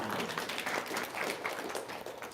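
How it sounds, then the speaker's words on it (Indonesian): An audience at an Islamic religious talk claps in a brief, fairly soft burst of applause lasting a couple of seconds. "Tepuk tangan dia dong"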